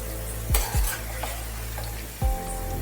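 Fried potatoes for Potato 65 are stirred in hot oil, a steady sizzle with a few quick scraping, splashing strokes as pieces are lifted out.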